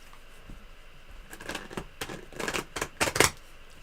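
Tarot cards are shuffled close by, a soft run of riffling and flicking that builds into a quick burst of crisp snaps toward the end.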